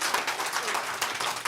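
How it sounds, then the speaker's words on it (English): An audience applauding at a city planning commission meeting, a steady, fairly distant wash of many hands clapping together without pause. "Please stop with the clapping, please."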